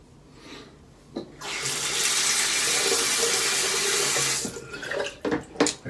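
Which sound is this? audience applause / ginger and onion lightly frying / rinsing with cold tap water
rinsing with cold tap water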